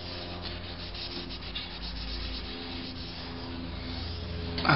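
Deposits are rubbed off motorbike exhaust downpipes in a cheap hand-cleaning job, making quiet, continuous scrubbing strokes that stay steady and close with no speech.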